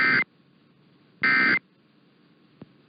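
EAS emergency alert test tone: two short, loud electronic buzzer bursts about a second apart, each lasting a fraction of a second over near-silence, followed by a faint click.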